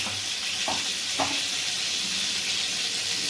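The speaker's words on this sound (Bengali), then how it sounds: "এবার লঙ্কাটা দিয়ে লঙ্কাটা দিয়ে কষে নেওয়া হচ্ছে" Green chilies sizzle in hot oil in a pan for a Bengali mutton curry, a steady close frying hiss throughout with two soft stirring clinks early on; no voices.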